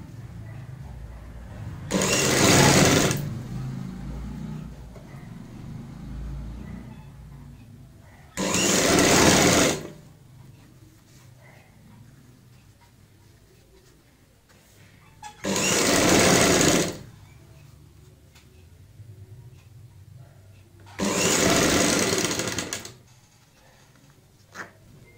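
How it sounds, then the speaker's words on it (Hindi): A sewing machine stitches an invisible zip onto a kameez in four separate bursts of rapid whirring, each a second or two long, with quiet handling and low talk between them. "साइड की सिलाई से हमने जिप अटैच कर ली है"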